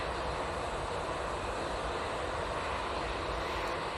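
A Finnair Embraer E190 jet turns onto final approach at Manchester Airport, heard as a steady, even roar of engine noise that holds unchanged from start to finish with no voices.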